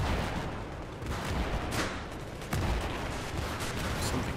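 Continuous gunfire in the video game Battlefield 3, a dense, noisy barrage of shots and blasts with sharp spikes near the start and midway, loud and sustained throughout.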